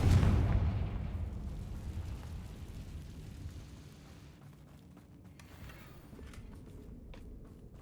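A Confringo fire spell explodes in the Hogwarts Legacy video game, opening with a loud deep boom that fades into a long rumbling tail, followed by faint crackling debris.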